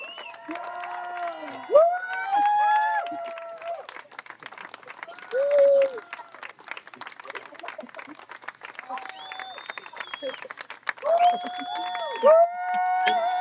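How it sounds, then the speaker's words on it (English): Crowd applause and cheering welcome team race finishers at a race finish line, with steady clapping and overlapping shouts and voices rising and falling for over thirteen seconds. "Let's give up the applause, give up the applause."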